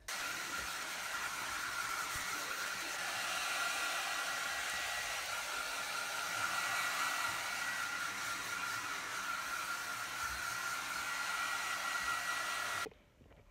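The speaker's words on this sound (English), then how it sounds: "But now it is time to dry her with a blow dryer" A handheld blow dryer runs steadily on a freshly bathed dog during home grooming, a loud continuous airy whoosh that holds for about thirteen seconds before cutting off abruptly near the end.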